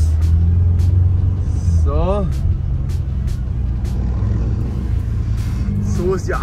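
A Mercedes-AMG GT Black Series sports car pulling away, its loud, deep engine rumble steady and close throughout while someone speaks German over it.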